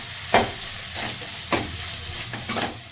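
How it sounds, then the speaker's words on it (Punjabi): Paneer stirred and fried in an oily spiced masala for bhurji, giving a steady soft sizzle broken by a few sharp scraping stirs of the spoon against the pan, close and alone with no talk. "ਅਸੀਂ ਇਹਨੂੰ ਚੰਗੀ ਤਰ੍ਹਾਂ ਪਨੀਰ ਨੂੰ ਭੁੰਨਾਂਗੇ ਮਸਾਲੇ ਦੇ ਵਿੱਚ"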